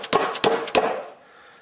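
Three sharp hammer blows, evenly spaced and close, drive a small hole into a wooden Windsor chair leg blank, each strike ringing briefly before a quieter tail.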